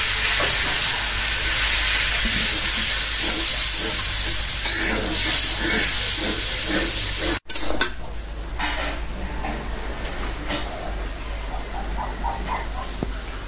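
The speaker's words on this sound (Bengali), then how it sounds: "এখন দিয়ে দেবো একটু পানি মশলা কষানোর জন্য।" Water goes into a pan of browned onions and frying spices, with utensil clatter and sizzling that changes abruptly midway, then continued quieter sizzle and stirring scrapes.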